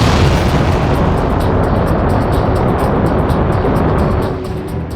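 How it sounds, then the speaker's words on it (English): Heavy rocket launch vehicle lifting off, a loud, dense, continuous roaring blast with deep rumble that barely varies before easing off slightly near the end. "the blast furnace of flames lifting a heavy launch vehicle off the ground"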